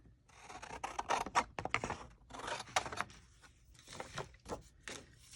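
Scissors cutting paper for a handmade CD envelope craft: a close run of crisp snips and sliding cuts in uneven bursts, with short pauses between strokes and no talking.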